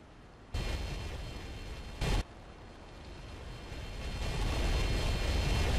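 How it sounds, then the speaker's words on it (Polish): A gas pipe explosion in the game Emergency 4: a sudden loud explosive burst followed by a sustained roaring rumble that swells and grows louder, with a brief sharp blast in the middle. "Eksplozja rury z gazem."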